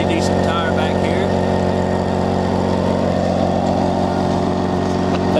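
A BMW K1600GTL six-cylinder motorcycle engine idles smoothly and steadily nearby, a constant low hum running beneath a voice.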